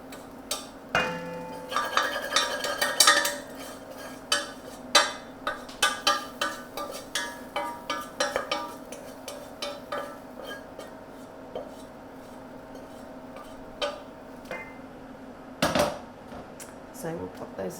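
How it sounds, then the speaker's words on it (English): A cooking pan's bottom is scraped clean in a kitchen, giving repeated close clinks and scrapes of a utensil against the pan in an uneven rhythm, with a louder clatter near the end. "Make sure you scrape everything out of the bottom of the pan."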